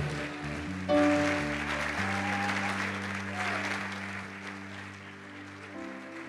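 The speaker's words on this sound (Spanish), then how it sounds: "un aplauso mientras ellos pasan" Congregants at a Spanish-language evangelical church service applaud in a broad, sustained wash while held keyboard chords sound beneath, the clapping swelling then easing slightly.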